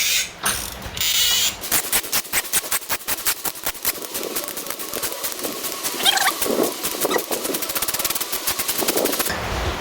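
A glow plug being undone from a car engine with a ratchet gives a loud, rapid run of clicking bursts, close and harsh, almost like a rattling machine gun, with brief pauses between spells of clatter.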